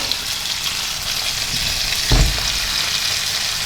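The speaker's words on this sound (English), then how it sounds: "give everything a bit of a stir, and then in with the corned beef" Corned beef hash frying in a pan gives a steady, close sizzle, with a brief louder scrape and clatter of stirring near the middle.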